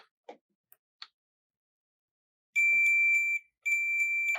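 Continuity tester checking the conductors of a 1/8-inch TRS input cable for old Realistic speakers gives two steady, fairly loud electronic beeps, the second after a short gap, preceded by a few faint clicks of probe handling.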